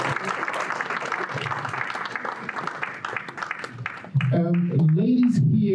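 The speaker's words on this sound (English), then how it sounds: "Let's put our hands together for Mrs." An audience at a 50th celebration event in Atlanta applauds for Mrs. Kuffour, dense clapping that fills the room for about four seconds before a loud voice cuts in over the tail end.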